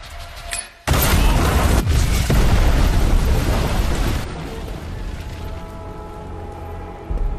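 A sudden loud explosion erupts after a brief quiet moment, followed by a sustained roaring rumble that gradually eases off.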